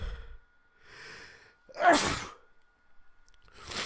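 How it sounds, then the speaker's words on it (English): A single sharp sneeze, preceded by a couple of quick breathy inhales and followed by a soft exhale, close and fairly loud. "You might catch me trying not to sneeze."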